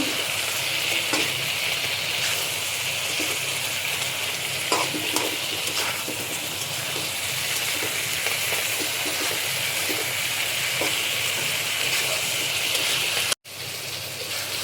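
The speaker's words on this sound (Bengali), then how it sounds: "ধুন্দল দিয়ে একটু মেখে নেব, নাড়াচাড়া করে নেব।" Sponge gourd sizzles steadily as it fries in a pan for a Bengali silver carp curry, with occasional scraping stirs over the constant crackle and a brief cut near the end.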